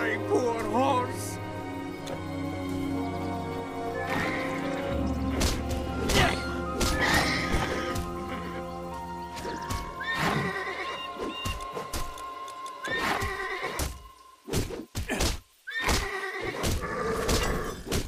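A horse neighs and whinnies in the Titan Quest video game, the cries repeating over a busy, loud game soundscape with voiced dialogue, hooves clopping and effects.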